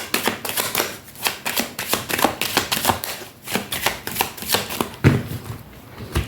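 Tarot cards are shuffled before a 21-card reading, a close series of crisp riffling bursts and soft slaps repeating in an uneven rhythm with no talking over them.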